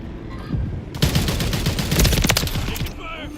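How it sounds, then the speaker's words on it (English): Dense automatic gunfire and rapid bursts in a Call of Duty Modern Warfare 3 online match, loud and continuous after a quieter opening second, with sharp repeated shots layered together before fading near the end. "Taking fire!"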